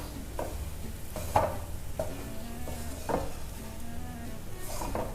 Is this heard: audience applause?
no